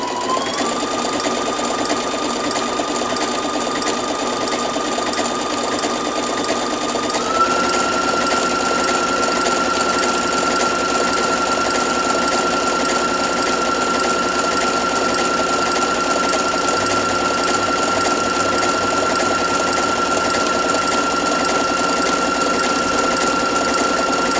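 Sewing machine overcasting a fabric edge with an overcast presser foot, a continuous fast mechanical whir and rattle running steadily and close for the whole stretch, with a high tone shifting once early on.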